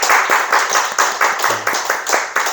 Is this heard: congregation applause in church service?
yes